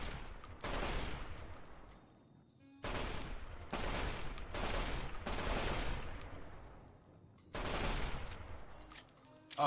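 Gunfire from Fallout: New Vegas at Big Mountain: loud bursts of shots come in several sustained volleys separated by brief lulls, each decaying with a rumbling tail, with no talk over them.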